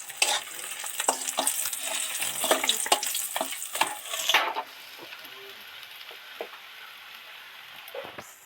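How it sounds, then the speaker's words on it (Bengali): Fried parshe fish are lifted out of hot oil in a wok. A loud, crackling sizzle comes with spatula scrapes and clinks, then drops to a quieter simmer with occasional taps. "সব মাছগুলো তো ভেজে নিলাম এবার কড়া থেকে সব কটা উঠিয়ে নেব"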